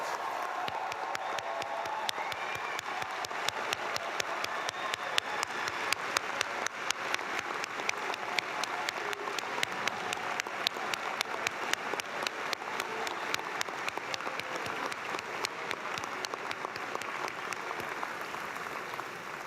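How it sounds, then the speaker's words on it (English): Audience applause at an engineering graduation celebration for the Senior Design Project winners, a long, steady round of clapping from a sizable crowd with crisp individual claps, sustained evenly throughout. "Let's have a round of applause for all our Senior Design Project winners."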